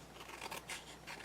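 Soft scissors snipping through paper in a few short crisp cuts, close by and fairly quiet, with no voices.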